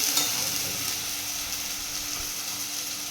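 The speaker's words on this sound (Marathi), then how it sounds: "मसाला पिसून घेतलेला आहे तो हे करतोय, त्याच्यात टाकतोय आपण." Ground masala paste fries in hot oil, a continuous bright sizzle with a faint steady hum beneath and occasional light stirring clicks, no one talking.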